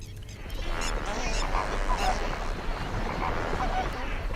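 Flock of resident and migratory birds, geese and ducks among them, honking and calling together in a bustling village, a steady dense chorus with faint voices mixed in.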